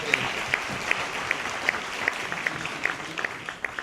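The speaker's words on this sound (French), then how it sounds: "On peut les applaudir." An audience applauds at an artisans' trophy ceremony in Charente-Maritime, with dense, sustained clapping from a crowd and a few sharper claps standing out.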